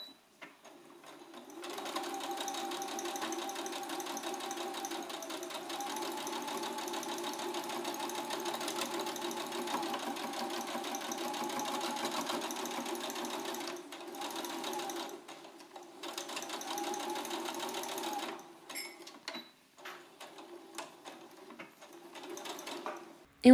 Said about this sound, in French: On réalise une couture à 1 cm du bord.